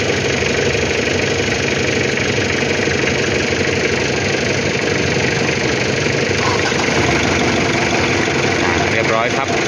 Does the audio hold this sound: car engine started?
yes